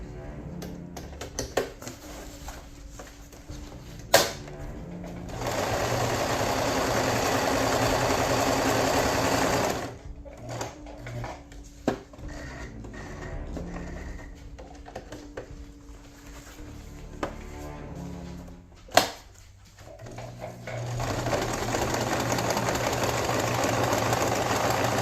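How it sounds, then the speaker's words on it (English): A sewing machine stitching Velcro onto a homemade plate carrier, running in long bursts of rapid mechanical chatter with short stops and a few sharp clicks, close and fairly loud. "So you see I sew around all the corners of the Velcro on all the Velcro"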